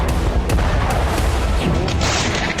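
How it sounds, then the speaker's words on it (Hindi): Explosions in the Syrian city of Hama during fighting between armed groups come through as a dense, continuous rumbling roar with several sharper cracks and thuds, loud and steady throughout with no talking. "हमा में कई धमाके हुए हैं।"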